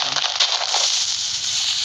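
A loud, crackling video game explosion fills the clip, a dense hiss of debris and fire that stays steady without fading.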